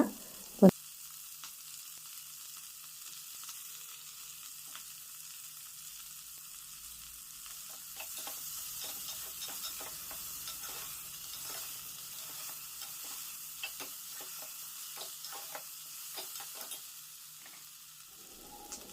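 Chopped onions with ginger-garlic paste frying in a pan for a raw papaya curry, a faint low sizzle that gains scattered stirring clicks and scrapes after a quiet start; one sharp knock near the beginning, no talking.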